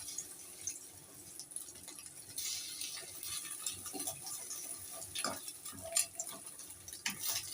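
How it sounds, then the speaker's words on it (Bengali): A utensil stirs an egg omelette curry with mustard oil in a pan, quiet scraping and soft clinks of metal coming in scattered taps with a faint bubbling underneath. "দিয়ে এবার আমি নাড়ছি এখানটায়"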